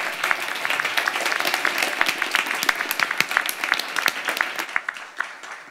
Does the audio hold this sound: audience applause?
yes